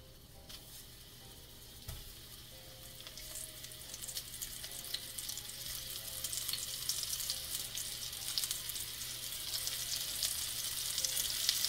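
Meatballs dropped into a hot pot on a stovetop fire, a soft thump followed by steady sizzling frying that grows gradually louder and denser over several seconds, with no talking.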